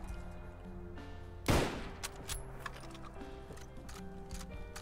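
A single gunshot in the video game Fallout London, one sharp loud crack with a short decaying tail, followed by a few faint clicks over quiet game ambience.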